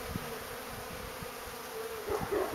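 Honey bees buzz in a steady, close drone at a hive being fed sugar syrup, with faint soft knocks underneath and no voices.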